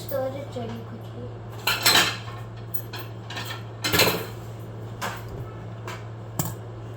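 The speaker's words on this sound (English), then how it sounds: "now get a spoon or a stirrer to stir it really quickly" A metal spoon clinks against a bowl while quickly stirring an ice cream mixture, sharp irregular taps over a steady low hum, near and fairly loud.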